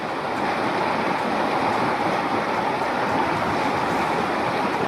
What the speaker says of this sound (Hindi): पानी की रफ्तार देखिए, जैसे सब कुछ अपने आगोश में लेने पर आमादा हो।